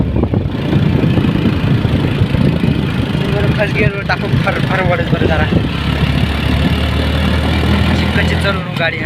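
A vehicle's engine hums steadily as it drives on a trip to Tikona fort, a continuous mid-low rumble that runs under people talking throughout.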